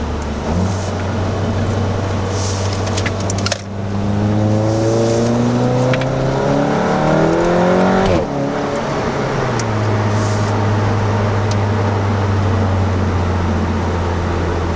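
Inside a VW Golf GTI Clubsport with its exhaust resonator deleted, the engine drones loudly through hard acceleration, pitch climbing steadily through the gears with quick shift breaks and a brief dip before settling into a steady hum.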